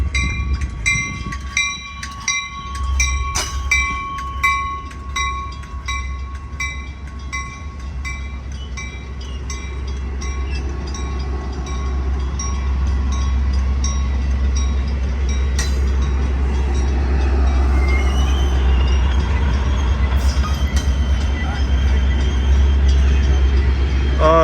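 Metra commuter train 2244 passing at Bensenville, Illinois, opening with horn blasts, then a loud, steady rumble of wheels and cars rolling close by for the rest of the pass.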